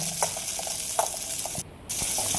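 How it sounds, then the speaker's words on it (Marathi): Green chillies and garlic roast in oil in a wok, giving a soft, steady sizzle with scattered small pops and crackles, heard up close without talk. "तेल टाकून भाजायचं काम चालू आहे. कढईमध्ये मिरच्या आणि लसूण टाकलेलं आहे."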